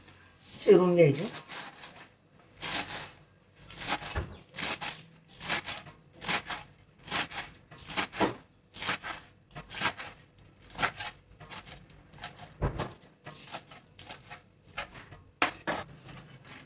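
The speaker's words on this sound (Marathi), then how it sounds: "घेतलं बघा पालक चिरून असं" Fresh spinach is chopped for a bhaji with a knife, making a steady run of crisp, regular cuts about once a second, close and moderately loud.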